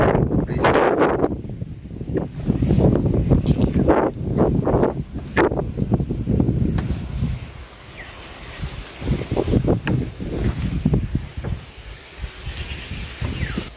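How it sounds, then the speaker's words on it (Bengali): Strong stormy wind sweeping over paddy fields and trees at the edge of a wetland, a loud, continuous roaring rush with heavy buffeting gusts close to the microphone, easing slightly in the middle before surging again. "প্রচন্ড ঝোড়ো বাতাস, গাছপালা,"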